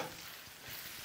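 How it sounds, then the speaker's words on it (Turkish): Minced meat and onion sizzle in a hot frying pan as they are stirred, a close, steady hiss with faint scraping underneath. "Şöyle karıştıracağız."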